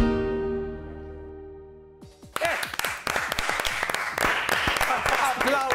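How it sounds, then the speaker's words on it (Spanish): A crowd bursts into loud, sustained applause after a moment of quieter sound, with many hands clapping densely and steadily. "Hay que darle muchos aplausos, muchos"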